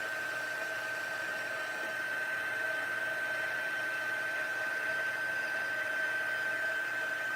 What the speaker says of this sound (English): So at this point, I'll just move my heat tool around until it all gets shiny.